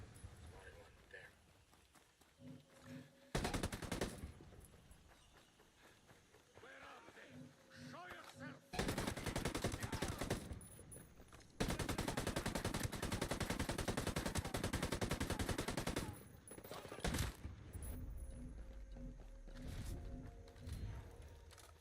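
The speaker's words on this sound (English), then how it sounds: "This is why we have the LMG." Light machine gun in a video game, fired in several long, loud, rapid bursts separated by quieter stretches, with people talking between the volleys.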